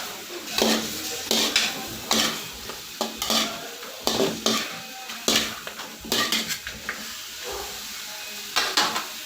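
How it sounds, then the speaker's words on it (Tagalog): A utensil stirs chicken tinola in a cooking pot, scraping and clinking against the metal in repeated rhythmic strokes over a soft simmering sizzle, close and clear, with no speech. "Haluin na natin."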